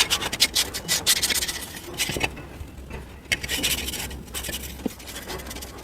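A scrubber scraping dried residue from a clay pot, with uneven rubbing strokes at moderate loudness, close by, with faint background noise.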